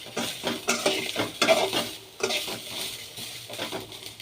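Masala spices dry-roasting in a pan, stirred with repeated scraping strokes and a light crackle, close and fairly loud with no voices.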